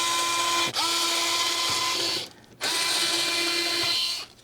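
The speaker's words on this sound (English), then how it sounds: "And then we do have 3 screws that we need to unscrew right over here" Powered screwdriver whirring as it backs out T8 Torx screws inside an Xbox 360 console, two sustained high-pitched motor runs separated by a short pause, close and loud with no talking.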